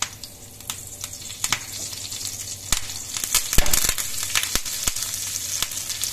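Curry leaves spit and crackle in hot coconut oil in a pan, a close, busy sizzle with sharp pops and a few utensil knocks.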